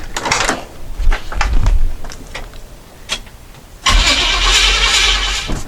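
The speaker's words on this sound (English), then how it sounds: "Let me mess with this plug. See if she'll crank again." Starter cranks a 1962 Chevy C-10 engine in several uneven bursts, then the engine catches and runs with a steady loud roar, close up.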